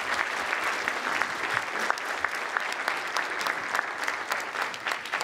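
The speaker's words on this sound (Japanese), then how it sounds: "どうぞ大きな拍手でお迎えください。" Sustained audience applause welcoming a guest director onstage at a Tokyo International Film Festival lineup press conference; dense, steady clapping from a large crowd throughout, with no voices.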